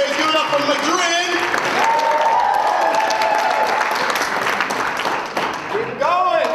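A poetry slam audience at the UNC Chapel Hill Grand Slam Finals applauds loudly and steadily throughout, a dense wash of clapping mixed with cheering voices and an emcee speaking over the crowd.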